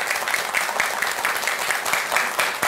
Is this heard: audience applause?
yes